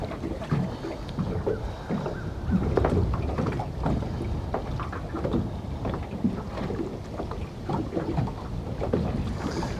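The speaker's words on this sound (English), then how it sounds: "that wind is cold" Cold wind gusting across a dock beside the water, a constant rough buffeting roar with rumbling gusts hitting the microphone and no voices.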